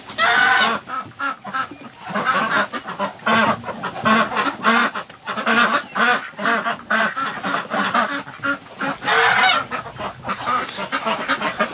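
Wintering geese honk nonstop in a dense, loud, overlapping chorus in bitter cold, the harsh calls close and crowding one another throughout.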